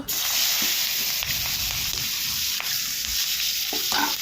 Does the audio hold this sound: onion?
yes